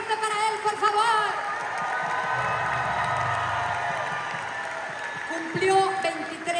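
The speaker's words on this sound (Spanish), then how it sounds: "¡Aplauso fuerte para él, por favor!" Concert audience at the Rosemont Theatre, during a show, cheering and applauding a band member on his birthday. Whoops and cheers rise over continuous crowd noise, with a low rumble in the middle and shouts near the end.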